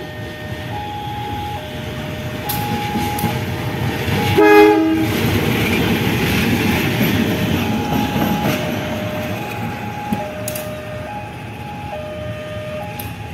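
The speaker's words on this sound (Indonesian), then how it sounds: "lokomotif Progo tiba di stasiun Lempuyangan" Locomotive-hauled train arriving at Lempuyangan station, wheels clattering and rumbling steadily while a loud two-tone horn sounds in repeated stepped blasts, with a brief squeal midway.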